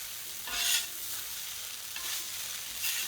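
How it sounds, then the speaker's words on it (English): Tofu-chickpea scramble dressed with oil and balsamic vinegar being stirred in a frying pan, a steady sizzle with three scraping swells of the spatula, close and moderately loud, no talking. "And I'll keep stirring."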